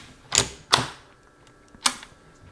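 A stainless steel Rossi Model 92 lever action rifle chambered in 44 Magnum is cycled clear, giving three crisp metallic clacks close by: two in quick succession, then a third after a short pause.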